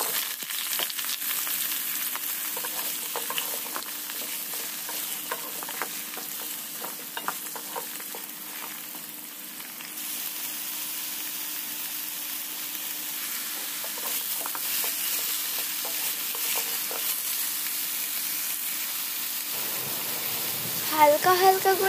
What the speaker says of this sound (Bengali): এবার এগুলোকে তেলের মধ্যে ভেজে নেব